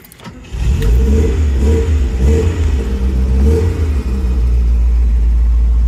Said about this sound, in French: Un peu de starter pour la faire rouler. Laissez-moi démarrer.